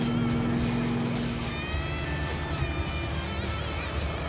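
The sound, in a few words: loud car engine running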